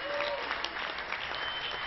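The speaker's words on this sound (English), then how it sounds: "Give her a round of applause as well." Convention audience at a state Democratic party gathering clapping together, a dense, even burst of applause filling the hall briefly, with faint voices mixed in.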